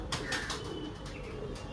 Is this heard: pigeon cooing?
yes